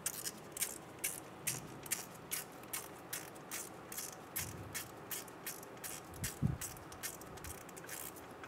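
A ratchet tightens a 10 mm bolt holding a wheel speed sensor in the steering knuckle of a 2007-2012 Nissan Altima, giving a steady run of close, crisp clicks with no talk.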